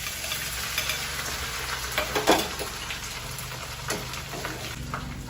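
Grated coconut, ginger and garlic drop into hot oil tempered with curry leaves, giving a loud, steady close sizzle with a crackling burst partway through and faint stirring knocks, no voices.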